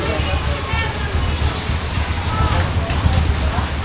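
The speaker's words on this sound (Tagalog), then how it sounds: "Lakas ng ulan mga langga." Heavy rain pours down outdoors in a steady, loud, close hiss that fills the whole stretch without a break, with voices talking underneath it.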